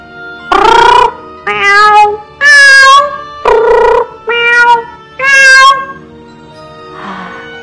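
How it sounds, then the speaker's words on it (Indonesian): Two cats meow back and forth in a run of six clear, loud, drawn-out calls, ending with a softer, breathy final cry, with no other sounds around them. "Tiba-tiba ia mendengar suara 2 ekor kucing."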